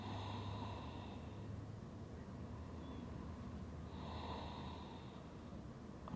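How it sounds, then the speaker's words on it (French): Calm, slow breathing during a yoga session, with two soft airy exhalations several seconds apart over a steady low room hum; no talking. "Retrouve une respiration naturelle"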